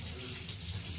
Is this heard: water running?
yes